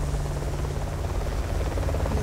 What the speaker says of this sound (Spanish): Llegó un helicóptero.